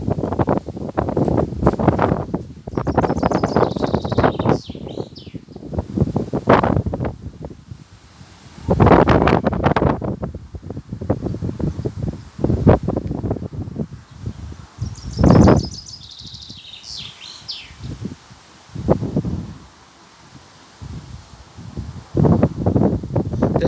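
Gusty storm wind rushes through trees, rising and falling in loud surges with rustling leaves and buffeting against the microphone, and a bird faintly audible between gusts.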